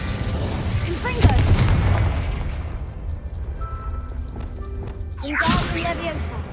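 A Confringo explosive spell goes off in Hogwarts Legacy with a loud booming burst, followed by rumbling game ambience and a second whooshing blast near the end.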